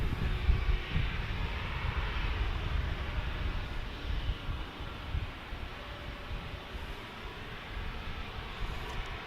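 A United Express airplane at San Diego airport produces a steady, fairly loud broadband roar that holds for the whole stretch, with low rumble underneath and a slight dip midway. No one speaks.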